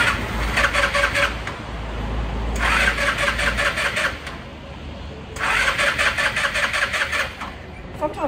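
An Indian Challenger motorcycle's starter cranks in three loud, rapid chattering bursts separated by short pauses, the engine not yet catching, with a low rumble underneath.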